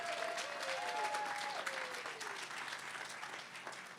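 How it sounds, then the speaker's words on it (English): A conference audience gives a steady round of applause, with dense continuous clapping and a few whistles and whoops rising above it. "So give Jasmine and the whole team a much bigger round of applause"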